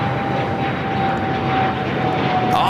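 An airliner landing on runway 25 left at LAX, its engine roar a steady, broad rumble with a thin whine running through it, loud and continuous the whole time, with no talk.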